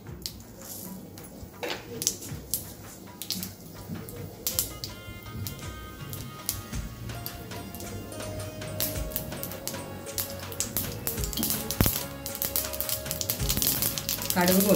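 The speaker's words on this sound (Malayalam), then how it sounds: "കുറച്ച് കടുക് ഇട്ട് കൊടുക്കുക." Mustard seeds hit hot ghee and crackle, sizzling and popping in irregular bursts that grow denser and louder toward the end, with no one talking over them.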